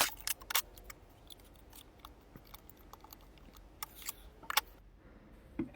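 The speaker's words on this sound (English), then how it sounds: "I took some female headers, cut it to size" Female pin headers for a Raspberry Pi Pico keyboard build are cut to size, giving sharp, close snipping clicks scattered irregularly over faint background, a cluster early and another couple near the end.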